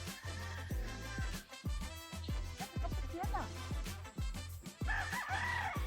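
Roosters crow loudly and repeatedly over busy clucking chickens, with people talking nearby throughout.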